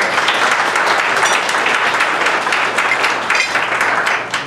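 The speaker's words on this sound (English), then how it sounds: "Give Alden a round of applause." Sustained applause from an audience at a school board meeting honoring a graduating student, dense steady clapping throughout at an even level, fading slightly at the end.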